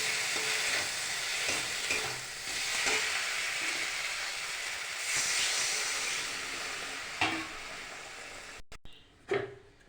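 Water is poured into spices frying in a pan with turmeric, giving a loud continuous sizzle and steamy hiss with stirring scrapes, then a few sharp clatters near the end; no speech.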